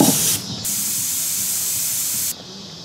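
Spray paint mists in a loud, steady hiss from a nearby can onto a handmade engorged tick fishing lure, with one short break before a long continuous burst.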